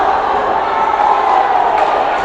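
A steady roar of spectators cheering and shouting at a varsity hockey game, loud and continuous with no clear breaks, broad crowd noise filling the rink.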